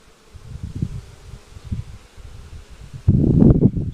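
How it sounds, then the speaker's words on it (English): Bees hum around a beehive frame during a hive inspection, a low buzzing that swells in irregular bursts and turns louder and denser in the final second, with no one talking. "You have to consider the bees."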